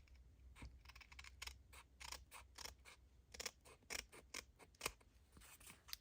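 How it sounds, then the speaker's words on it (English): Scissors trim paper for a vintage Polaroid and cabinet-card craft project, a quick series of close, crisp snips in an irregular rhythm with no talking. "let me go ahead and just trim this off just a tiny bit"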